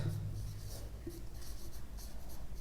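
Faint scratchy strokes of a teacher writing words on a board during a class lesson, in quick repeated bursts over a low room hum.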